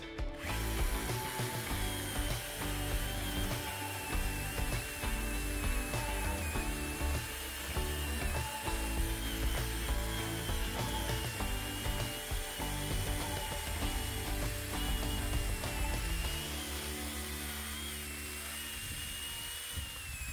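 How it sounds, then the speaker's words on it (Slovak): A small Parkside PGHSA 20-Li A1 20V cordless chainsaw running on an 8 Ah battery cuts through 18 cm thick hardwood firewood, a loud, continuous close-up motor whine with chain rasp that eases off near the end as the cut finishes. "veľmi pekne reže táto prerezávacia pílka, nemá problém prerezať aj 18 cm priemer tvrdého palivového dreva"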